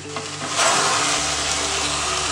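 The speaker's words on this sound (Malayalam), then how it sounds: "ഈ ശർക്കര പാനിയിലിട്ടിട്ട് നന്നായിട്ടൊന്ന് വരട്ടിയെടുക്കാം." Grated coconut stirred into thick jaggery syrup in a non-stick pan, a steady sizzle and bubbling that swells after a brief quiet start, with soft scraping of the stirring spoon and no talking.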